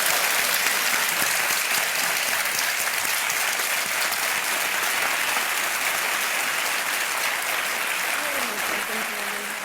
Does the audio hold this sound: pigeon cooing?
no